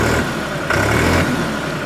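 A 3630 Special Edition tractor engine runs steadily at idle and rises briefly in a short rev before settling back. It is close and fairly loud, with no talk over it.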